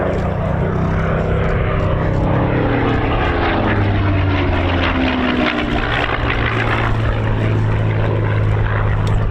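Hawker Hurricane propeller fighter flying a display at an RAF air show, a loud, steady piston-engine drone with shifting pitch as the plane banks and passes close overhead.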